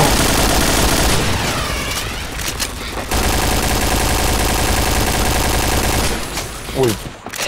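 AK47 gunfire in the video game Point Blank: loud rapid-fire bursts crackle in quick succession, broken by short pauses, with more bursts toward the end.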